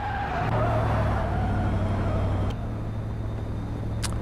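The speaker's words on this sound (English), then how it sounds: "Wow, sliding that car around." A race car sliding around a track, its engine droning loudly and steadily throughout with a whining tone, easing slightly after a couple of seconds, with no voices.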